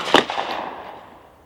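A single sharp gunshot from a firearm loaded with Winchester 124 grain NATO ammunition cracks loudly and close, then rings out in a long decaying echo.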